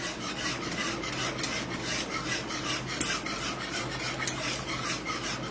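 A milk and yogurt mixture is stirred steadily in a pot, giving a continuous soft rasping scrape of the utensil against the pot bottom, fairly quiet and close, with no talking over it.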